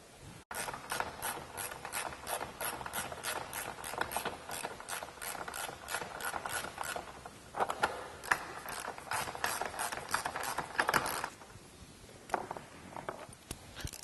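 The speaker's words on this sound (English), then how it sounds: "Go ahead and repeat removing these 3 bolts on the other side." A hand ratchet removes bolts from a Jeep JK roll cage: rapid, steady clicking of the pawl repeating for many seconds up close, with brief pauses and some handling clatter toward the end.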